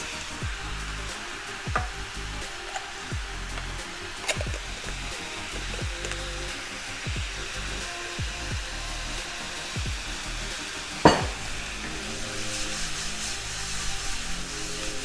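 Soy sauce sizzles in a hot pan while lomo saltado cooks, a steady loud hiss with scattered clanks and scraping knocks from stirring.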